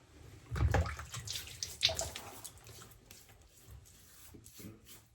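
Tap water running and splashing as a man wets his face before a safety-razor shave, an uneven trickle with a couple of louder splashes early on, then a quieter flow, close and faint.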